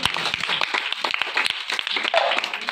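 Audience clapping at a gathering, a quick run of irregular handclaps, fairly close and loud, continuing for a few seconds.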